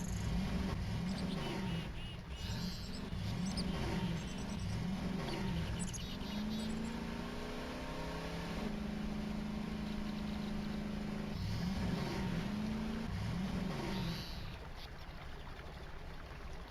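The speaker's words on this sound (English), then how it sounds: "That engine sounds annoying me." A quad vehicle's engine in a space-themed video game drones steadily for the whole stretch, its pitch rising and falling with throttle. The engine stays loud and close, with no talking over it.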